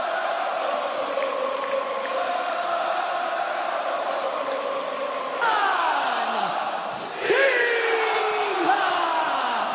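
A loud wrestling arena crowd at WWE Clash in Paris, a dense sustained roar of voices that swells partway through into rising cheers and chanting, with a sharp burst near the end.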